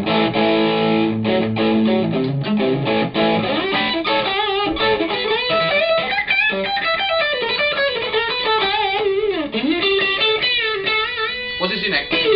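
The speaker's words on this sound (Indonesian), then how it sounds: "Dan sekarang kita menggunakan crunch" Electric guitar, a Tokai, played through a light crunch distortion, picking a melodic line with bent notes and sustained chords; the mildly overdriven tone rings out loud and close, with no talking.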